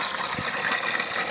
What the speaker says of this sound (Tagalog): Tubig. Walang tigil yan. Yan ang gagaling yan sa bundok.